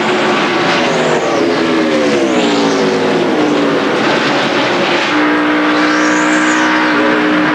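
A NASCAR Busch Series race car at Dover in 2003 roars loudly, its engine pitch rising and then sagging as the driver jumps off the throttle, with other cars' engines sweeping past close by in a dense, continuous din.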